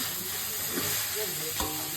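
Continuous close sizzling of fish head frying in hot oil, with a couple of brief stirring scrapes.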